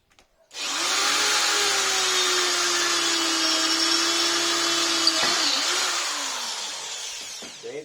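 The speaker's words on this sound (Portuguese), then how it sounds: "Eu estou usando a função de furar mesmo, né?" A Lith LT7002 drill set to plain drilling mode at full speed bores into a dry, hard wooden rafter: a loud, steady, close whirring whine that runs unbroken for about seven seconds before tapering off, with no talking.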